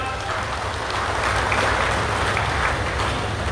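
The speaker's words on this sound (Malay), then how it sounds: "Berikan tepuk tangan kepada Tok Mat." A night-time crowd at an outdoor by-election rally in Chini, Malaysia, applauds a political figure. A broad, steady wash of clapping and cheering noise sits over a low rumbling hum, loud and unbroken.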